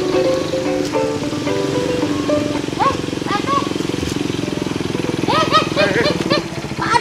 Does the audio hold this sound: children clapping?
no